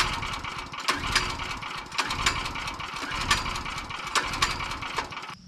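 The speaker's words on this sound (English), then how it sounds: "I really had high hopes for this generator because it's dual fuel and electric start" A dual fuel, electric start portable generator runs steadily nearby, a loud, continuous mid-pitched engine drone with a regular pulsing rhythm and no talking.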